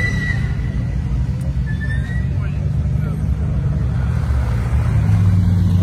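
Two-tone Mini Cooper at a car meet, its engine a steady low hum running throughout, with someone talking over it and some crowd noise.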